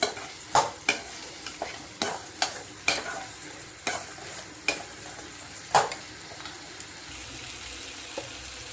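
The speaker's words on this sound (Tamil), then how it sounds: "இப்படி ஒரு கிண்டு, இப்படி ஒரு கிண்டு" A spoon scrapes and taps around a frying pan, stirring chicken curry with tomato and onion, in a quick, uneven rhythm over a soft background sizzle, close up, with no speech.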